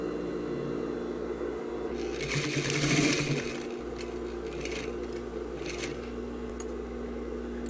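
A sewing machine stitches a tailored sleeve seam at a 1 cm seam allowance, a steady fairly quiet mechanical whir that swells into a busier run of stitching midway, with faint clicks.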